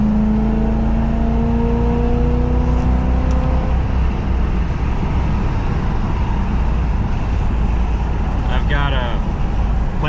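A Camaro accelerating up a highway on-ramp, steady loud engine drone and road roar from inside the car, with the engine note rising early on before settling into constant cruising noise.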